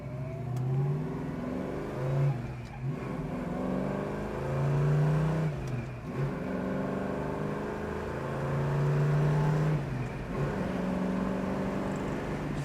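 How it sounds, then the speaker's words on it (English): A 1965 Ford Mustang Fastback with its 289 V8 runs steadily while driving through hot, humid Daytona traffic, its engine note rising and falling through gear changes, close and continuous with no talk over it. "This car runs fantastic. That 289 feels like a 351."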